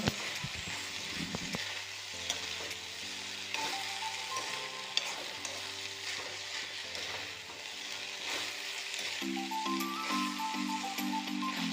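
Upperi frying in oil with turmeric and chili powder in a Kerala home kitchen, a steady faint sizzle with occasional stirring clinks, with sustained tonal music playing over it.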